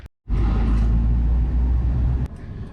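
A vehicle drives out of a car park in San Antonio, Texas with a close, loud, steady engine rumble that cuts in abruptly and drops away near the end.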